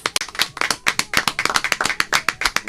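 A radio show studio audience claps steadily, a dense run of sharp, bright hand claps with an uneven rhythm, fairly close and loud, with no talking.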